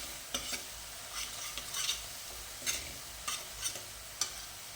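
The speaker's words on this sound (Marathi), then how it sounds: "आलं लसूण आणि मिरचीची पेस्ट चांगली व्यवस्थित भाजून घेऊया" Ginger, garlic and chilli paste frying in a pan with soft continuous sizzling, punctuated by repeated scraping stirs of a spatula, fairly quiet and close, no voices.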